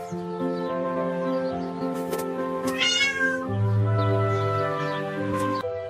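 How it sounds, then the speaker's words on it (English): A cat gives a long, loud, close meow that rises and wavers, drawn out over several seconds with no other sound around it. "Hey, Kitty, want to come with us?"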